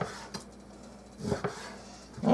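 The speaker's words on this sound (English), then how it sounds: "I'm going to cut this one in half." A kitchen knife taps down through food on a cutting board a few times, short thuds spaced irregularly with faint rustling between, close and fairly quiet.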